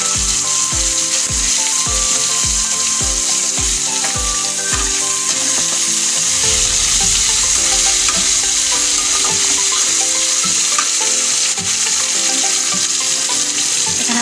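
Fritters sizzle in hot oil in a pan, a loud continuous crackle, with a run of regular rhythmic knocks early on and then steady frying without any speech.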